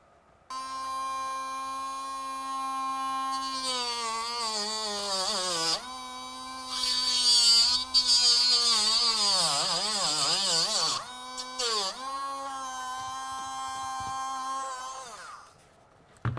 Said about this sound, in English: I'll take a Dremel, do it in real time, and show you how I get on.